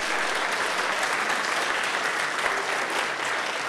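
Sustained applause from a family magic-show audience, a thick even wash of many hands clapping at steady loudness from start to finish.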